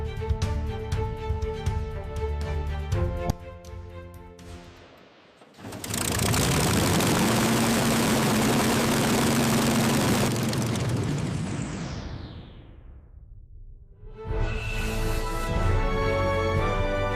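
A loud, steady World War II British propeller fighter plane engine roar swells up, holds for several seconds, then fades away, with music before and after.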